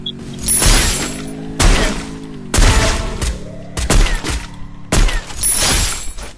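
Gunfire in a video game, heard as about five loud, sharp bursts of shots, some clustered into rapid volleys, spaced roughly a second apart and dominating the mix with no voices.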